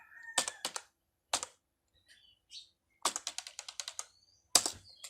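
Keyboard keys clack in quick bursts of irregular typing while writing CSS code, with short pauses between clusters of strokes; close and fairly loud, with no voices.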